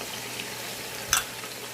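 Chicken frying with red chilli, turmeric and dried coriander for a chicken biryani, heard as a faint, steady low sizzle with one brief louder stir or clatter partway through.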